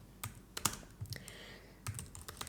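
Someone types on a computer keyboard, a close, quiet run of sharp individual key clicks in uneven bursts with short pauses between them.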